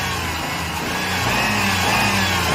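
A revving engine sound effect meant to suggest sputtering, heard as a steady, loud, rough motor drone that swells slightly toward the end, with no talk over it.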